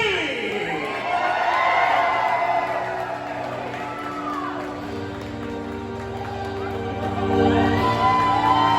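A large crowd at a wrestling convention in Jacksonville, Florida cheers, whoops and screams in a loud, sustained roar that swells again toward the end.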